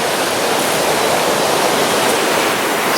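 Loud, steady roar of water pouring over a weir in Ebermannstadt, a constant broadband rush with no pauses, close by.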